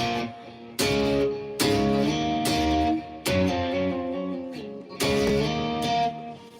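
Heavy distorted electric guitar plays a slow riff, sustained power chords each struck loudly and left ringing before the next.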